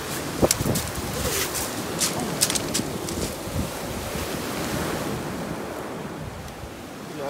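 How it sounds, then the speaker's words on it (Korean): Sea waves wash against a rocky shoreline at a Busan seaside campsite, a continuous loud surf roar with wind buffeting the microphone and a few brief clicks near the start. "바다 소리 들려?"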